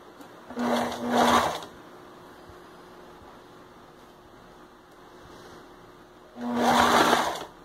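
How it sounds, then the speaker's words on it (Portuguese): A sewing machine stitches a plush Captain America slipper in two loud, close bursts of rapid mechanical whirring separated by several seconds of quiet room tone, with no talk. "aí você já vem aqui e põe na máquina. Ó. Aí começa a fazer uma costura"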